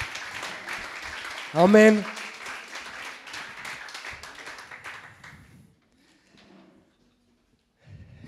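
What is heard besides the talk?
church congregation applauding the worship team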